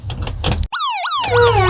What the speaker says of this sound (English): Wait, do I hear sirens?